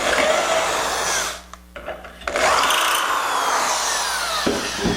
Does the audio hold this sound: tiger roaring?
no